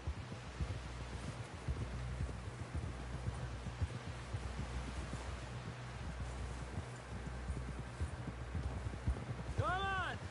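Horse hooves clip-clopping steadily in Red Dead Redemption 2, a rhythmic trot running through the whole stretch under continuous talk, with a brief whistling tone near the end.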